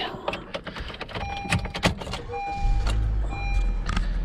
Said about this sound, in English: let me fire up the car here real quick